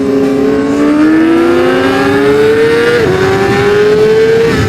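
A Honda CBR600 sport bike engine revs loud and close, its pitch climbing steadily in a sustained high-rpm wail with a brief dip near the end before holding high.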